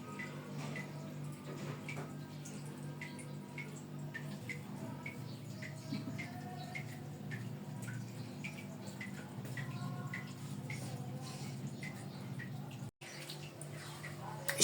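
Water splashing and dripping as a stone grinding slab is rinsed, with soft irregular trickles and drips at close range and a low background hum throughout.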